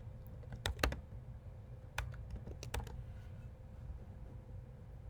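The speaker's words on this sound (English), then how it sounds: "I'm going to type it in." Keys on a computer keyboard tapped in short clusters of sharp, close clicks, with pauses between the bursts, over a quiet room hum and no talking.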